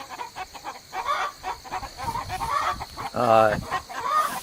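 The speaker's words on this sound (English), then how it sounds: "these guys here couldn't be any happier than they are to be chickens out in our pasture" Chickens in a pasture cluck and chatter nearby outdoors, with a louder, drawn-out squawk standing out partway through.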